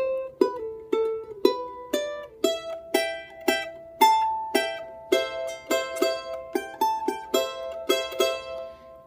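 Charango playing a melodic phrase from Virgenes del Sol, bright plucked strums and notes in a steady rhythm of about a dozen attacks, clear and close with no talking.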